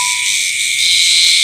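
A garengpung cicada calls loudly and close by during a village insect hunt in Jenar, a continuous high shrill buzz that swells slightly partway through, with no voices over it.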